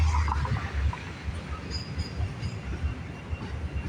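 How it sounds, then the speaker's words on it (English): A CPKC freight train with a distributed power unit rolls past near Kinnear Yard, a steady close rumble of wheels and cars with faint metallic squeals, no talk. "I think this train's got a DPU on it,"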